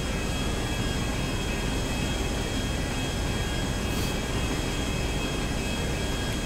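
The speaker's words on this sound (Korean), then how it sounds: "지금 현재 이 비행기는 7000피트에서 안전하게 날고 있습니다" An airplane cruising at about 7000 feet in GTA5, a continuous broadband engine drone and rushing roar, steady and fairly loud throughout with a faint whine on top.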